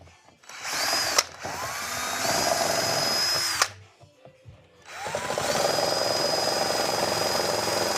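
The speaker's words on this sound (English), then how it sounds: "So finished up with the nibbler." Handheld nibbler tool cutting sheet metal for a 1JZ-GTE VVT-i coil pack cooling mod, loud whirring bursts with a start-up whine, a short pause, then a second long sustained cutting run.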